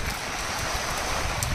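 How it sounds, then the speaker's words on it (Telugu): Heavy rain pours steadily outdoors, a dense, continuous hiss of drops close by with no gaps. "ఎంత వర్షం అంటే ఫుల్ వర్షం"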